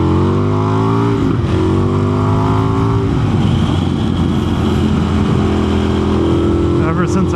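An Indian FTR1200 motorcycle engine accelerating hard, loud close revving that climbs through gear shifts with rising pitch, under wind noise and a rider's talk.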